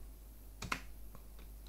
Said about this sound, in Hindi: कीबोर्ड से इंटर कर दें